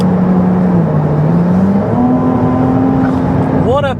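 An 830 hp Ferrari 296 pulling hard on the Autobahn, its engine droning loud and close from inside the cabin with a steady rising pitch and a brief upward shift at the end.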